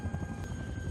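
A helicopter in a horror film, its rotor thumping in a steady rapid beat with a constant whine, close and loud with no voices.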